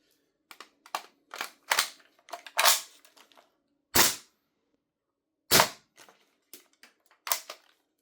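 Shots from a VFC Gen 2 MP5K gas blowback airsoft gun on semi-auto: about a dozen sharp, separate cracks at uneven intervals, some louder and closer than others, with no talking over them.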